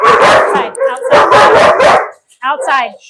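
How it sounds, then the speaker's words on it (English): A puppy indoors lets out several loud, close barks in quick succession, followed after a short pause by a higher yipping whimper. "she starts barking"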